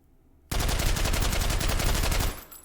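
A suppressed FAL rifle in the H3VR game fires a rapid burst of about fifteen close, dense shots in under two seconds, stopping abruptly and leaving a brief tail.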